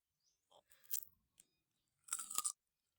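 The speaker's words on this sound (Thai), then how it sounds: "มะม่วงโคตรกรอบ อืม แซ่บแต่สมพังแต่เสียงอะ" Crunchy mango being chewed up close, with a few brief crisp bites followed by a louder burst of crunching in an otherwise quiet space.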